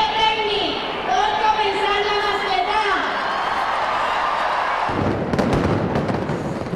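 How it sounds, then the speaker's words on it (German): During Las Fallas, people's voices fill the square at Valencia's town hall until loud noise fireworks burst in with rapid, sharp bangs about two-thirds of the way through. "versammeln sich täglich Tausende am Rathaus zu einem einzigartigen Lärmfeuerwerk."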